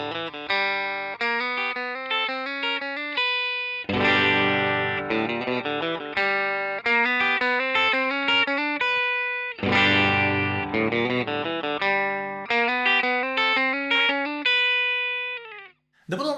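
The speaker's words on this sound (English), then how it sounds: "The first set will be basically a clean tone through my Fender Deluxe Reverb Reissue" Clean Stratocaster tone from a Seymour Duncan APST-1 Tele-style pickup played straight into a Fender Deluxe Reverb Reissue, no pedals, with bright plucked chords and single notes in a steady strummed rhythm, close and loud.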